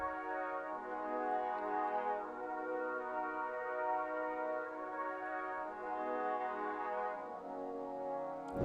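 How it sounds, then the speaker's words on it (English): Sustained brass chords from Kontakt Orchestral Essentials follow a chord progression, a soft, continuous swelling tone that shifts gently between harmonies with no talk. "Next thing we went into this brass from Contact, from Orchestral Essentials right here."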